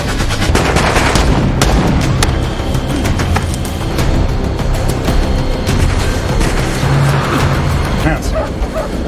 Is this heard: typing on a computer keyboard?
no